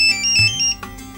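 A mobile phone ringtone plays loudly for about a second in a family comedy scene, a bright repeating electronic melody that cuts off abruptly.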